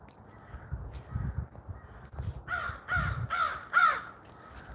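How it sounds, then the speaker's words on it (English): A crow caws four times in a quick, evenly spaced series, harsh and fairly close, over a low rumbling outdoor background with no talk. "There's a crow that's flying around me, no joke."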